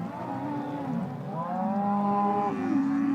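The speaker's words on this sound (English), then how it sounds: "This is just like a river of cows flowing into the field." Dairy cattle of a Cumbrian herd mooing as they pour into a field of fresh grass, several overlapping low bellows in a continuous, fairly close chorus with no talk.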